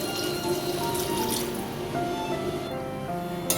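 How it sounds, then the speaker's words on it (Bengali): Water poured into a pan of prawn and taro root (gathi kochu) curry, a soft steady splashing and trickling over a low kitchen hum, with no talking. "পুরোটা ভালো করে কষানো হয়ে এলে জল দিয়ে দিচ্ছি।"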